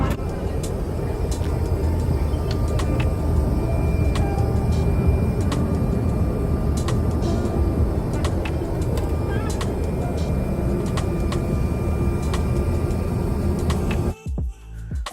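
Steady, loud broadband roar inside an American Airlines Embraer E190 main cabin at cruise around 28,000 feet, with faint clicks and cabin rustles on top, holding evenly for about fourteen seconds before briefly cutting out near the end.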